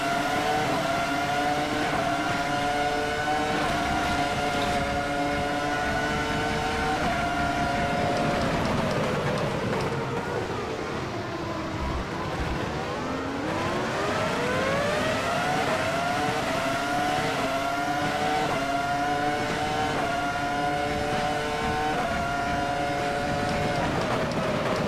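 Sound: F1 V10 engine roar, video game

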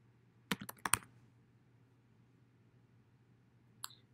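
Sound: typing on a computer keyboard

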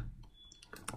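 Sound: typing on a computer keyboard

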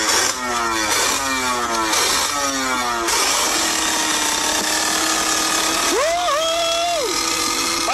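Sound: motorcycle engine during wheelie

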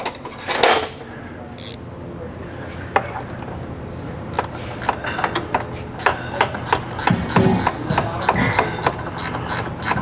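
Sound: ratchet snugging down 12 millimeter hex coil spring bolt

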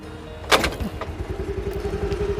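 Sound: scooter engine being kick-started

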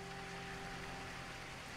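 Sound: rain falling in a radio play

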